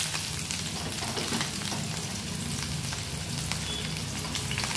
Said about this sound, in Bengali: তেলে পেঁয়াজ দিয়ে দিল